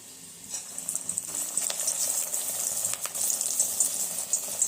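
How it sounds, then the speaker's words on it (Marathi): Green moong dal vadas frying in hot oil, a steady close hiss and crackle of bubbling oil with brief louder spatters, heard alone without talk. "आता हे टाकून घ्यायचे तेलामध्ये"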